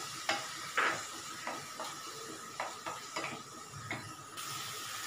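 Finely chopped tomatoes with a pinch of salt cooking in a pan, with a soft background sizzle and several sharp spoon-on-pan clinks and scrapes from stirring, close and moderately quiet.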